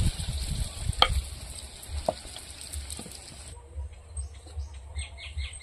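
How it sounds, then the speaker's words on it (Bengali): Luchi puffing in hot oil gives a soft sizzle for the first few seconds, with a couple of sharp clinks along the way; then the frying drops away and faint bird chirps can be heard. "আমরা এদিকে লুচি ভাজতে থাকি"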